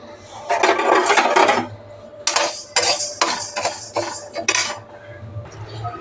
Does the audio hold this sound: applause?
no